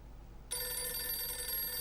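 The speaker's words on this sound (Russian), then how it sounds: "Вот, телефон зазвонил." A telephone suddenly begins to ring in the Blues and Bullets video game, a bright, steady electronic bell tone starting after a short quiet moment and carrying on alone at moderate volume.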